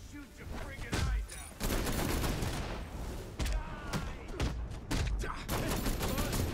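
Red Hood opening fire in Batman Arkham Knight, bursts of rapid gunshots and volleys in irregular clusters, loud and close, with scattered impact noises between.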